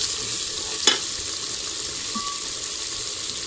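Spices with turmeric and browned onions frying in hot ghee for mutton paye, a steady broadband sizzle with one sharp spoon clink near the start and occasional faint stirring.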